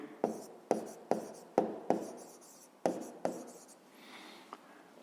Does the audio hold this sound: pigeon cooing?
no